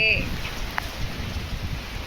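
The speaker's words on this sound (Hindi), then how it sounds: "और बारिश भी तेजी है।" Heavy rain pours in a storm in Kawardha with strong wind, a dense, steady hiss of falling water close around, with a brief voice at the start.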